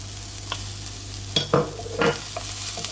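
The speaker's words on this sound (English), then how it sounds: "now I'm going to add the leeks" Leeks tipped into a pot of frying chicken soup base and stirred, with a soft sizzle under scattered scraping and clattering strokes of a spoon against the pot, close and moderately loud.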